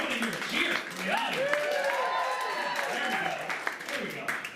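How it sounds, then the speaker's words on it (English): A studio audience at a talk show cheers and claps, a dense, steady wash of applause with voices calling out over it and no talk underneath. "I want to hear a cheer."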